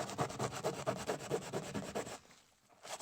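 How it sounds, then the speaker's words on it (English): A scrubber rubs back and forth across a dirty suitcase in steady, close strokes for about two seconds, then the scrubbing stops and only faint room noise remains. "So I just need to keep scrubbing a little bit more."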